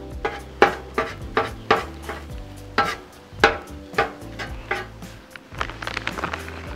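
A metal spatula scrapes and taps on a Blackstone griddle as chorizo and eggs are flipped into a pile, a series of sharp clacks and scrapes over a faint sizzle, close and alone.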